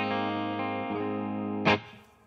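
Electric guitar through an AmpliTube Mesa Boogie amp simulator on a clean channel preset, one sustained ringing chord that decays, then a brief bright scrape or pick noise near the end.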